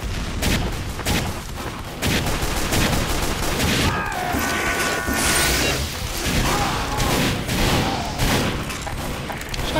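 Rapid gunfire and booming weapon blasts from a Team Fortress 2 match fill the scene, dense and continuous with overlapping bursts and explosions throughout, loud and close.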